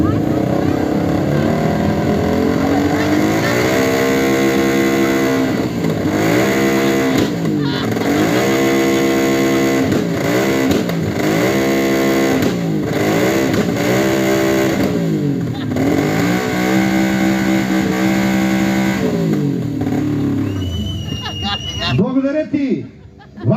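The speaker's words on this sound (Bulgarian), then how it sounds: "по-точно да чуем нейният мотор" A motorcycle engine revs loudly and close by at a contest event, with repeated rising and falling throttle blips in a rough rhythm that cut off abruptly just before the end.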